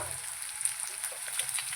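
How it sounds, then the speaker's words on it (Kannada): Carrot, capsicum, beans and tomato sizzle in hot oil for Maggi noodles, a soft steady hiss with faint crackles, heard alone at low volume. "ಈಗ ತರಕಾರಿ ಎಣ್ಣೆ ಒಳಗಡೆ ಚೆನ್ನಾಗಿ ಸಾಫ್ಟಾಗಿ ಬೇಯಬೇಕು"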